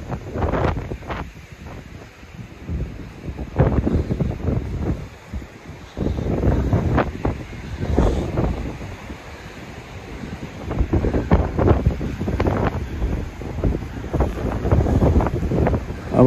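Strong coastal wind at Santa Ponça, Mallorca, buffets the microphone in continuous rumbling gusts, loud and close, with a faint hiss of sea or surf underneath.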